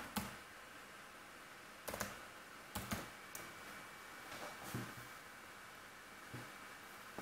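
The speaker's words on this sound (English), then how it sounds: "go to the library manager and type in" Keyboard keys clicking in a few scattered short bursts, close and fairly quiet over a steady background hiss, with a quiet pause between each group of keystrokes.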